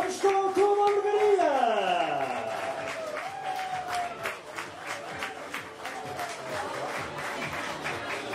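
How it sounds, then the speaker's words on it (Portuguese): Crowd applause welcomes a women's football team at a league cup match, steady clapping under a loud announcer whose voice echoes through the stadium with a falling, sweeping tone. "E vamos receber com um forte aplauso a nossa equipa!"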